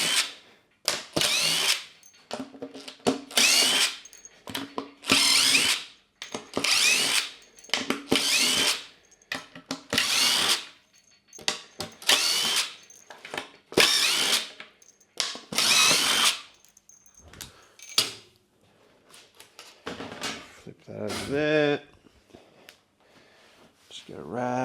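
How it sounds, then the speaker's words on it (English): A power drill backs screws out of a Model A hot rod firewall in repeated short whirring bursts with pauses between, loud and close, followed by a ratcheting rattle. "Pull all the screws out."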